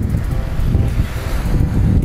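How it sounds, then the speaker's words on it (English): Strong wind gusts roar across the microphone outdoors beside the water on a fishing trip, a loud, continuous, buffeting rumble with no speech. "It is windy as heck out here"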